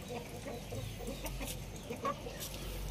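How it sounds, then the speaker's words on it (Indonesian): Indio Gigante chickens, four months old and raised in Indonesia, cluck and chortle close by in a steady, busy stream, with one louder squawk standing out near the end. "Nah, ini ayam Indogigantenya"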